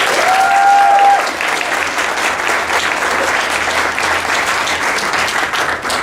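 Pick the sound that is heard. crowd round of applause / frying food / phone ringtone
crowd round of applause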